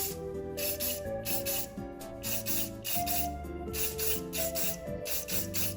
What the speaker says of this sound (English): I'm using the same color scheme as the main body of the blaster, a black base and then a light dusting of silver spray paint.